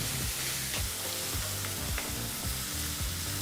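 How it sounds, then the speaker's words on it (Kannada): Chopped onions frying on a medium flame, a continuous close sizzle with brief scraping strokes of stirring, no talk over it. "ಈ ರೀತಿ ಎರಡರಿಂದ ಮೂರು ನಿಮಿಷ ಏನು ಈರುಳ್ಳಿನ ಫ್ರೈ ಮಾಡ್ತೀರಲ್ವಾ ಮೀಡಿಯಂ ಫ್ಲೇಮ್ನಲ್ಲೇ ಫ್ರೈ ಮಾಡ್ಕೊಳ್ಳಿ"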